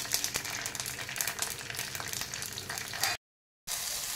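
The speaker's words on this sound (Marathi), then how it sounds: "त्या तेलामध्ये पावटा जो आहे आपला तो चांगला भाजून घ्यायचा आहे" Lablab beans (pawata) frying in oil in a kadhai, a steady close sizzle with crackling that cuts out briefly near the end.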